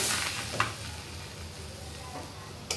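Hand-patted bhakri flatbread roasts on a hot tava griddle with a steady soft sizzle and hiss, broken by a couple of faint clicks or taps near the start and end, with no voices.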